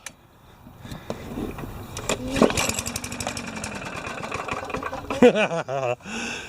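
An old Tecumseh small lawn mower engine runs close by, its uneven mechanical chatter building after a quiet start, with a few sharper knocks and a brief sputter near the end.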